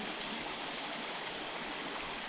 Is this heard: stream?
yes